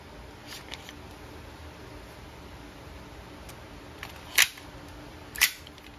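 A WE airsoft 1911 Type B pistol fires two sharp, snappy shots about a second apart over a quiet background hiss, with a few faint handling clicks earlier.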